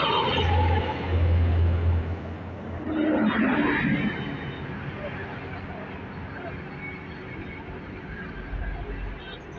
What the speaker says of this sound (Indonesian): Ini bis Budiman Tasik Jakarta